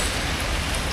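Steady rain pouring down outdoors in Kerala, a dense, even hiss of drops on surfaces with no talking, filling the whole moment at moderate loudness.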